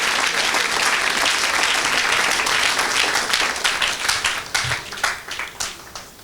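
A church hall audience applauds steadily and loudly, a dense wash of clapping that thins toward the end into scattered, separate claps.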